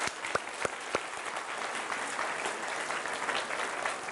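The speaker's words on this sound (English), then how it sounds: "Big round of applause for Anthony." An audience at a magic and science show breaks into applause, a few sharp claps at first swelling into a steady, full round of clapping from a crowd.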